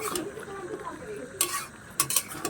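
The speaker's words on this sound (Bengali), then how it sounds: "এভাবে একটু নেড়ে দিতে হবে।" Large-cut pumpkin and Malabar spinach curry stirred in a pan: soft scraping and clinking strokes over a steady low simmer, with two brighter bursts of spoon against metal near the end.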